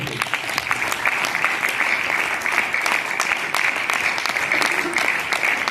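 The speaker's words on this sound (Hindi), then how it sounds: "एक जोरदार ताली" Loud, steady applause from a crowd at a DXN business camp in Amritsar, welcoming two men introduced on stage, dense and continuous throughout with no letup.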